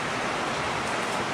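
Heavy rain downpour pouring down in a short burst, a dense, even hiss of falling water close by with no voices.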